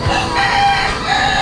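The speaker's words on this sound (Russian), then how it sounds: "И вот эти долбанные петухи." A rooster on Malapascua Island in the Philippines crows loudly and close by in one sustained, strained call.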